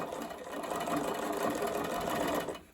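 A sewing machine runs steadily, stitching the sleeve of a doll's school dress a foot's width from the seam, a continuous close whirring hum that holds for a couple of seconds before trailing off.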